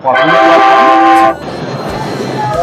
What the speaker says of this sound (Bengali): আর ট্রেনটি এখন ব্যান্ডেল স্টেশন ছেড়ে বেরিয়ে যাচ্ছে